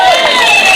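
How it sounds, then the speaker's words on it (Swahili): Crowd at a political meeting in Kenya cheering and applauding, a dense continuous roar with shouts, loud and close for under a second. "Ndreda muhorere rais wetu makofi."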